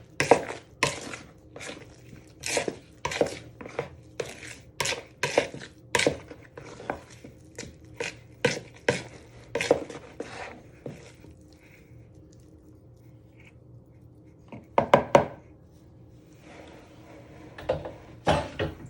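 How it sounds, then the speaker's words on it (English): A knife cuts and scrapes through pastry dough for a steak and ale pie in a bowl, making a rapid run of soft, irregular taps and squelches that pauses and then returns in a few more strokes. "you want to properly bind it together with a knife"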